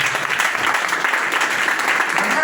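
A church congregation at a consecration ceremony breaks into steady, fairly loud applause, with many hands clapping together and a faint murmur of voices mixed in.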